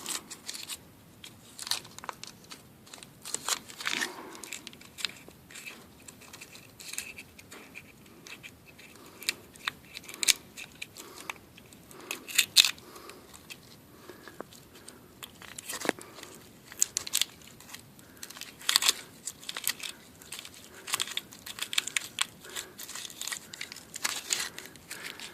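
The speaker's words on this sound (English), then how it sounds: "A little tape we got to get off of here." Protective tape is peeled and pulled off the sensors of an LQ4 engine, giving a long stretch of close, faint crinkling, ripping and crunching with irregular sharp bursts and no talk.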